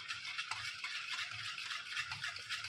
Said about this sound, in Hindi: बेसन डाल के इसको अच्छे से हम मिक्स कर लेते हैं।